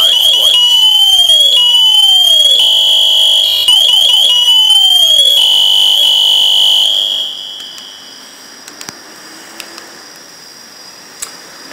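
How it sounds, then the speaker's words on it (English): An SCBA PASS device sounding its emergency alarm: a loud, piercing electronic tone with repeating falling chirps that stops after about seven seconds, leaving faint clicks and handling noise. "It must go straight to the emergency alarm and it may not be shaken off."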